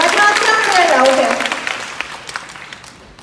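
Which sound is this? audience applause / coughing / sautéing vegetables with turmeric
audience applause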